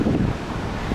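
Strong January wind gusts across a pier by a hotel cafe in Alanya, a brief rough buffeting roar close to the microphone.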